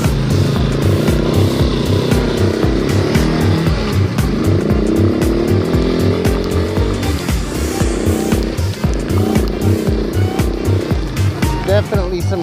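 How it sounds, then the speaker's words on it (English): Small four-wheeler quad engine churning along a muddy clay trail in the rain, a loud steady drone with rising and falling revs throughout, close by. "The beauty of having a small four-wheeler."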